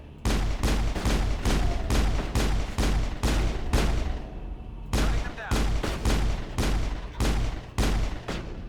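Repeated bursts of gunfire from the video game Mass Effect, loud and close, firing in rapid volleys with a brief pause near the middle before shooting resumes.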